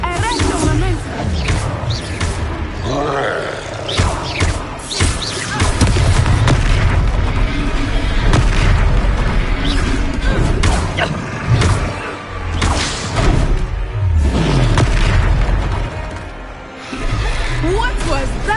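Booming spell impacts and whooshing blasts from a Hogwarts Legacy wizard duel, loud and continuous, layered with dense game effects and voices talking throughout.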